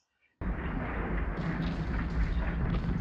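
Secondary explosions from the 1981 film Mad Max 2: The Road Warrior erupt suddenly after near silence, then roll on as a loud, continuous booming rumble with crackling bursts layered over the deep roar.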